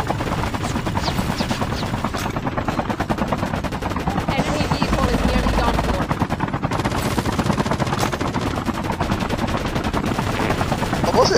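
Rapid bursts of automatic gunfire and single shots crackle almost continuously through a multiplayer shooter match, dense and loud, with players' voices faintly mixed in.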